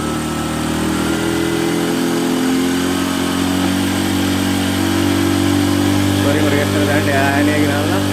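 A motorcycle engine runs steadily under load while being tuned, its loud continuous mid-pitched drone rising slightly as it revs, with no pauses across the stretch.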